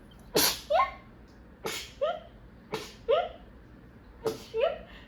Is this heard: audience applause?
no